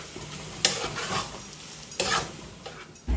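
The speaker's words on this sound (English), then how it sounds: "just allow the shrimp to fry in with the katahar for about a minute or so" Shrimp frying with katahar in a Guyanese-style pan, giving a steady low sizzle broken by a few sharp scrapes and clanks of the spoon against the pot.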